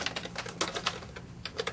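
Keys typed on a computer keyboard in a quick irregular burst of clicks, close and fairly quiet, with no talking.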